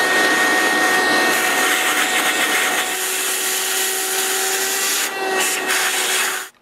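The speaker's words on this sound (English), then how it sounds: "I can use a shop vac and vacuum out the carbon from the port" A shop vac runs loud and steady at close range as it pulls carbon out of a two-stroke chainsaw's exhaust port, with a rough roar and scraping rubbing as the nozzle moves around the port.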